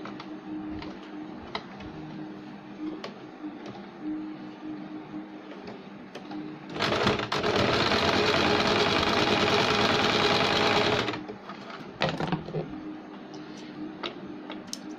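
A sewing machine stitches the side seam of a sleeve, running in a loud, steady burst of about four seconds, with quieter ticking and handling clicks before and after.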